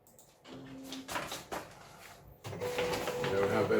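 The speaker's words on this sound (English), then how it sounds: "let's print nozzle check button. That's gonna be for the 6th time." An Epson 1500 printer runs a nozzle check: a short motor hum and a few mechanical clicks, then a steady, louder whirring and rattling of the print carriage, heard close up with no talk.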